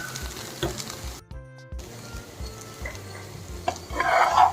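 Okra fry with sesame seeds stirred in a pan with the stove switched off, a steady faint sizzle under repeated scraping strokes, a brief gap of near silence, then a louder scrape at the end.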